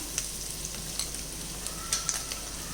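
Paneer with spice powders sautés in a pan for butter paneer masala, a quiet continuous sizzle with a few crisp spatula clicks and scrapes, close and without talk.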